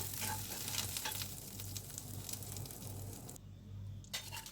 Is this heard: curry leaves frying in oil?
yes